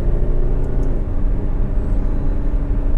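An Alfa Romeo Stelvio Veloce four-wheel-drive SUV pulling away from a roundabout in first gear, a steady, deep engine and road rumble heard from inside the cabin, loud and continuous.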